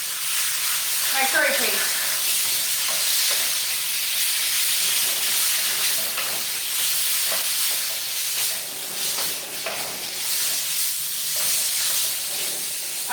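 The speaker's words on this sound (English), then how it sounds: "I'm gonna add in my beef. I guess I'm gonna use it all. I'm gonna sear that in" Beef searing in a pan of red curry paste for Thai red curry, with a loud, continuous broadband sizzle and hiss that stays steady throughout, while a voice speaks briefly near the start.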